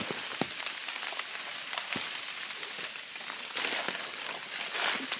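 Steady rain falls outdoors during mushroom picking in the forest, a dense, soft patter across leaves and ground with scattered sharper drops and crinkles, fairly faint and continuous with no voices.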